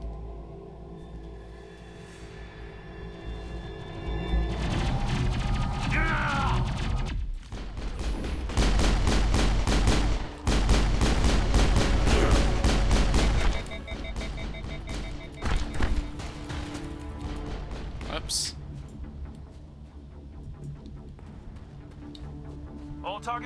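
Gunfire in the Mass Effect video game rattles in sustained bursts through the middle stretch, loud against a backdrop of game music and effects, with voices talking before and after.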